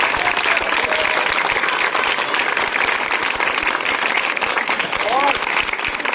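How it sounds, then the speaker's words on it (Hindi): Loud, steady audience applause at a school scholarship award ceremony, many hands clapping continuously, with a few voices faintly audible within it. "तो सर के लिए जोरदार तालियां हो जाए।"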